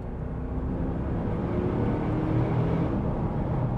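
A Mercedes R63 AMG engine heard from about fifty meters away, a steady low roar and rumble that stays even and distant, with no talking over it.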